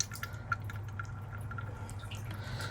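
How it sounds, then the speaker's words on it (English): Oil drains from a Premier pump into a filter, a close, irregular patter of small drips over a low steady hum, quiet and alone. "turn this knob counterclockwise until it starts draining. And there it goes, right into my filter."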